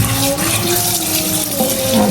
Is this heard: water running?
yes